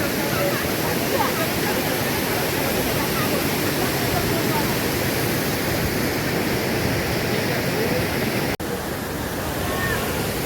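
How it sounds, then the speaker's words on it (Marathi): A loud, unbroken roar of rushing water close by, like a waterfall pounding without pause, at a hidden waterfall in Chikhaldhara, Amravati. "पाणी इकडून वाहत चाललाय इकडे सोबत"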